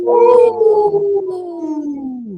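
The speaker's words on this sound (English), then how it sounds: "Wow, that was a trio of howls." Wolves howl together in one long, loud, sustained cry that slowly falls in pitch over a couple of seconds, with no talking.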